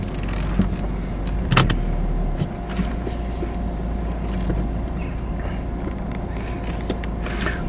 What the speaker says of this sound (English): I'll have to jump back in the car now and go up